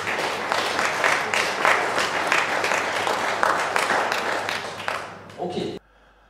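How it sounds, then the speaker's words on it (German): A crowd applauds steadily, dense clapping that fades out and then stops abruptly into near silence. "Begrüßt mit mir, es ist schon auf der Bühne, mit einem großen Applaus, der Hans Teutzing."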